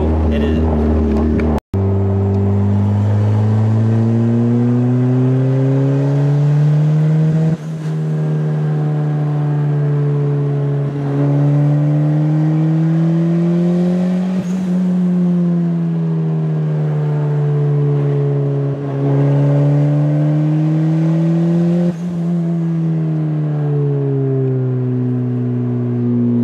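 A turbocharged Honda Integra with an eBay turbo accelerates through the gears under boost, the engine note repeatedly climbing then dropping at each shift, loud and close from inside the car.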